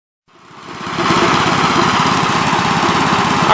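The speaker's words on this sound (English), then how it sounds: "So this is my big iron and my big ground working and loader tractor." A big ground-working loader tractor with a Ford motor built to Perkins spec starts up and settles into a loud, steady diesel rumble with a rapid knocking pulse, running alone close by.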